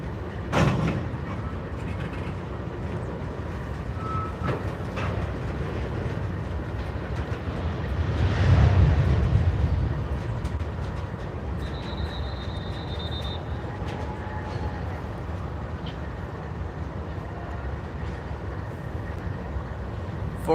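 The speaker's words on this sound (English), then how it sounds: "And our train begins to reverse." A Norfolk Southern train in Chattanooga slowly reverses, producing a continuous low mechanical rumble with a swell of heavier grinding midway, a sharp clank at the start and a thin wheel squeal later on.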